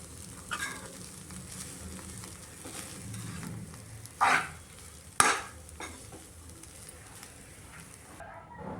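Soaked poha is stirred together with cooked onions in a pan, giving soft continuous scraping and a faint sizzle, with a couple of sharper spoon knocks against the pan.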